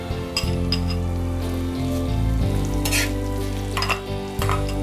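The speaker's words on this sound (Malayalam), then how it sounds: "ഇനി സവാളയും ഇതിനകത്ത് കിടന്നിട്ട് ഈ നെയ്യിൽ കിടന്ന് നന്നായിട്ടൊന്ന് പാകത്തിൽ മൂത്തുക." Chopped onions sizzle and fry in ghee in a pan, a steady bright crackle with repeated scrapes and light clinks of a spoon stirring, close and continuous without any talking.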